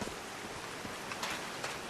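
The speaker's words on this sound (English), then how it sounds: "These drops of rain are so refreshing." Rain falling in the video game Call of the Sea: a soft, even hiss of steady rainfall with a few scattered drop patters, faint and continuous, with no voices.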